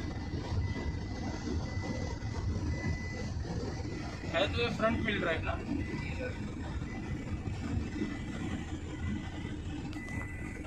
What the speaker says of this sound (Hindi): सिर्फ एसी की नॉइस सुनाई देगी।